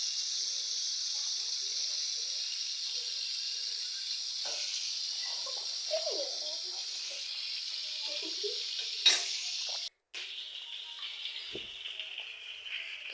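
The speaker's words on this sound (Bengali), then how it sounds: "মাছটা হালকা ভাজবো, বেশি না।" Rui fish frying lightly in a pan: a steady, close sizzle and hiss of oil runs throughout, with a few soft stirs or knocks and a brief cut near the end.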